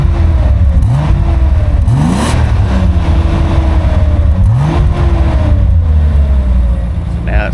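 A 1982 Datsun 280ZX Turbo with a newly fitted, breaking-in muffler revs loudly and repeatedly up close, its deep exhaust climbing and falling in several rising sweeps with no talking.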